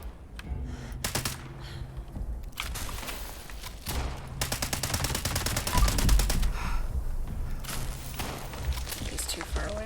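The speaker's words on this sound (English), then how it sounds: "Somebody else is shooting at him too." Automatic weapons fire in Fallout 76 rattles in rapid, sustained bursts with a few short pauses, loud and dense, mixed with heavier shots and thuds.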